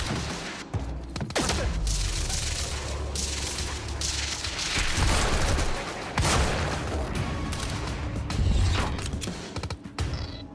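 Shotgun fire in the action game Quantum Break, repeated heavy blasts amid a dense, noisy firefight with rumbling impacts throughout, loud and continuous with no talk.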